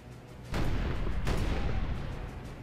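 Mortar fire strikes the left flank in a Call of Warhammer battle: a sudden heavy rumbling boom, then a second blast rolling into a sustained low roar of distant artillery.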